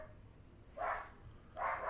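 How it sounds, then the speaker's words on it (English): Two bursts of barking from dogs indoors, aimed out a window at another dog, each burst lasting about half a second, moderately loud against a quiet room. "It's just my dogs barking out the window whenever they see another dog"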